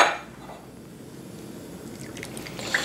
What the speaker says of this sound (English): I'm gonna add whole milk and heavy cream to this.